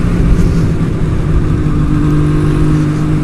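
A big Ducati Diavel motorcycle roars past on the road, its loud, steady engine noise blending with a continuous rush of wind and nearby engine drone, with no talking.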